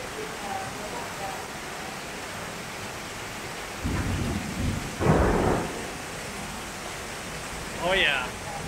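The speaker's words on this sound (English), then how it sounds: "This is a rainstorm in Bangkok." Rainstorm in Bangkok with steady rain hiss throughout and a couple of low rumbling thunder bursts partway through, the second louder and nearer, followed by a brief faint voice.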